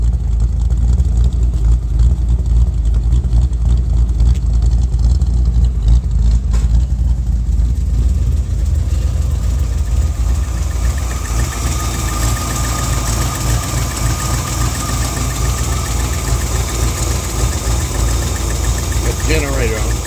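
A 1957 Chevy wagon with generator and ram's horn manifolds idles loud and close, a steady rumbling drone that roughens and shifts partway through, with a voice speaking over it.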